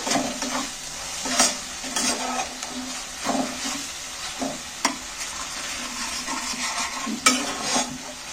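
Tomato masala fries in oil that has separated out in a pan, giving a continuous close sizzle under repeated spoon scrapes and clinks at an irregular pace, with no voices.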